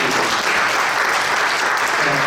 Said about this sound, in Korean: 우리 함께 서로 격려 박수 한번